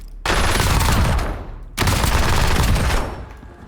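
Warzone gunfire fired to show recoil: two loud sustained bursts of rapid automatic shots, each about one and a half seconds long, separated by a brief pause, close and with no talking.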